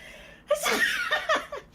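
A single close, sudden sneeze from a woman, a sharp burst followed by breathy trailing sounds and a small gasp or laugh, with no other speech.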